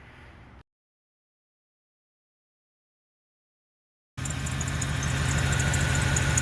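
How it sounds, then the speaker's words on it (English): A brief engine burst, a few seconds of silence, then a 1995 Buick Roadmaster sedan engine idles steadily and loudly with a rough, uneven rumble and a slight skip from an exhaust leak. "Here's a little skip in there, something an exhaust leak."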